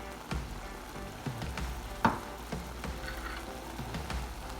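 Spinach with tamari and red Thai curry paste cooking in a pan, a soft steady sizzle with occasional louder pops and light stirring clicks, moderately close and without talk.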